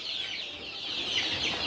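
Kampung chickens of the Sentul breed in a farm coop holding around 50 birds, clucking in a dense continuous chorus at moderate volume, with no talk.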